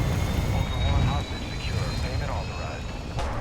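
Helicopter engine drone in the Call of Duty DMZ video game, a steady loud rotor and turbine roar running throughout with a voice talking over it.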